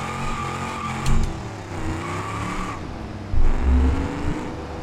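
A car drifting in the driving simulator BeamNG.Drive: a revving engine rises and falls with surges of throttle, and tires squeal and rumble through the slides, fairly loud and steady throughout.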